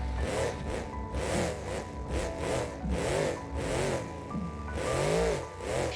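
A battered, badly damaged monster truck in BeamNG.Drive Monster Jam revs its engine again and again, the pitch climbing and falling in loud, close surges with no talk over it.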